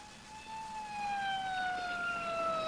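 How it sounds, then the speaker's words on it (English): A wailing ambulance siren with steady, slowly falling tones, moderately distant and growing a little louder, with no talking. "Sounds like an ambulance."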